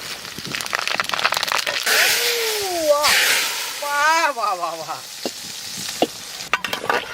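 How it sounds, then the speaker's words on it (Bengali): Dry chillies and panch phoron crackle in hot mustard oil for a tempering, a close busy sizzle with stirring, while a voice talks over it partway through. "এখন আমরা ফোড়ন দেবো সর্ষের তেল ফোড়নে দেব শুকনো লঙ্কা আর পাঁচ ফোড়ন"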